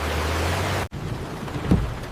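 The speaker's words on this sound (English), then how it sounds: "The rain is too heavy, David." Heavy rain as a sound effect, a dense steady hiss that cuts out abruptly and returns softer with a faint low rumble, suggesting distant thunder.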